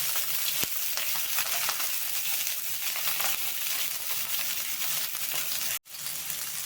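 Onions drop into hot oil with popped mustard seeds and curry leaves, giving a continuous close sizzle with light stirring; it cuts out briefly near the end, then resumes.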